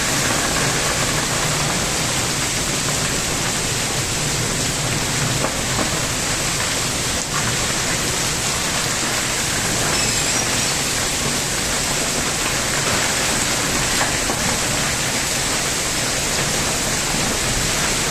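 Heavy rain with gusting wind pours down steadily and loudly, a dense unbroken roar of water that holds constant for the whole stretch with no voices.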